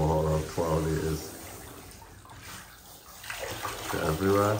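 Tap water runs into a bathtub while a husky is being washed, a steady rush under overlapping voices at the start and end, with a quieter stretch of running water in the middle.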